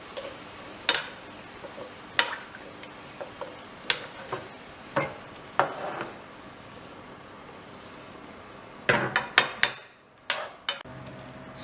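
Lamb sauce simmering in a pan over medium heat, a soft steady sizzle with intermittent scraping and clinking of a utensil against the pan, busier near the end before falling quiet.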